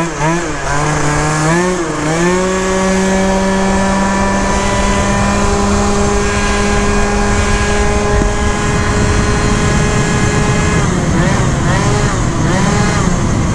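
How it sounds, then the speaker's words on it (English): A Phantom F12 engine fitted with a Stage6 clutch and CVT tuning revs high and holds a loud, steady buzzing whine throughout, with its pitch wavering slightly and no voices. "It's still revving too high."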